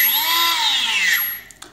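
The small electric motor of an F1S free-flight model aircraft timer spins up in a brief, loud, close whine that rises in pitch as its RPM climbs, then fades out with a couple of faint clicks.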